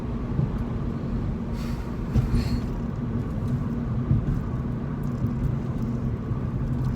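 A Saab with new shocks and struts rolls through a construction zone, its low, steady road rumble broken by a few soft thumps as the tyres cross bumps.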